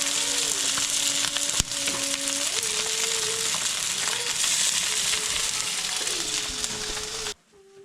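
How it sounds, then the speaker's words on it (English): Scrapple fries in a pan with a continuous loud sizzle, while faint tonal whines and a sharp click sound over it before it goes quiet at the end. "Here we are frying it up for breakfast."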